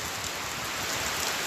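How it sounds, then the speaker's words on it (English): Steady rain pours down in a dense, even hiss that fills the whole moment, loud and unbroken with no voices over it. "damn, this rain is falling."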